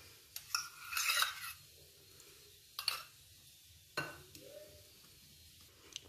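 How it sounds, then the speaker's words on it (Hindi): A spoon stirring boiled, ground bathua greens into raita in a bowl, a few separate scraping clinks spaced out with quiet gaps between them. "तो बथुए को भी हम मिला लेते हैं।"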